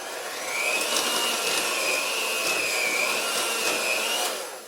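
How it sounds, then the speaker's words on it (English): Electric mixer churning thick oat bar dough with chocolate, a steady close whirring hum with a slight wavering pitch, running continuously without talk. "at one point we have to stop using the electric mixer"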